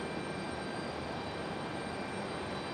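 A Breeze Airways Airbus A220 jet taxiing at Raleigh-Durham International Airport on a stormy night gives off a steady, broadband engine rumble and hiss, fairly faint and distant, with no voices.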